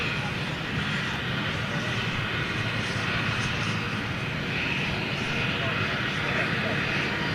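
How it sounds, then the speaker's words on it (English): A Boeing 787 Dreamliner jet gives off a steady, broad engine roar that holds at an even level throughout, like a large aircraft heard from nearby. "Of course, this is one of their Dreamliners."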